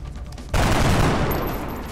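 A panicking soldier in XCOM: Enemy Within opens fire on his own squad, a sudden loud burst of gunfire that erupts and rolls on as a dense, sustained barrage, with no voices.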